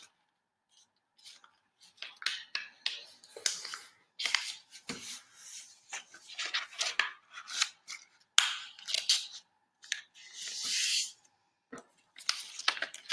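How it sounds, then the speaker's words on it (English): Paper creased and folded by hand for an origami heart, crisp rustling crackles and sharp snips in irregular bursts, close and fairly quiet, with no voice. "So I'm going to fold now up on both of those triangles that I had."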